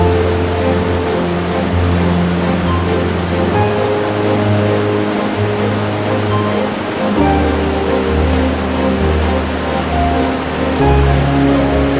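Loud, continuous rush of flowing water, steady and close, with a low rumbling undertone throughout; no talking.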